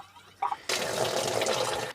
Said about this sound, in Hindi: तो पहले मैं इसमें भर लेता हूँ पानी